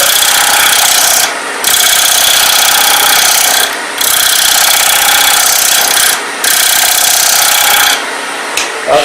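A bowl gouge riding the bevel across a wooden sushi platter spinning on a lathe, a steady loud rasping scrape broken by four brief pauses as the cut stops and restarts.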